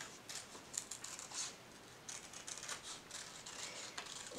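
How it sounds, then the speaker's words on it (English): Scissors snip through paper along a black outline for a stained glass mitten craft, quiet irregular crisp cuts in short clusters, close and faint with no talking. "So go down to the line and cut around the inside black line."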